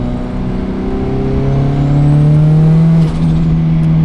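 Honda Civic pulling hard in second gear, a loud, close engine note whose harmonics climb steadily for about three seconds before dipping briefly at the next shift, with no talking over it.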